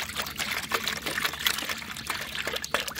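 Water is poured from a container into a bucket for mixing a fungicide solution on a rooftop garden, a close, splashing trickle with uneven gurgles.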